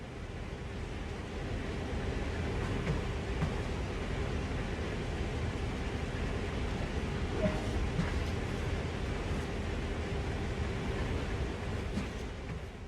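A steady low rumble of a train rolling along in the video game Train Sim World 2020, with a constant noisy roar and faint rattles, no voices.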